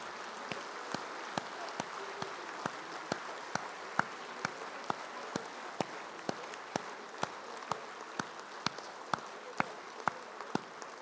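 At the UMNO General Assembly 2021, a hall audience gives a standing ovation: faint, sustained applause with sharp individual claps standing out at a steady, rhythmic pace throughout.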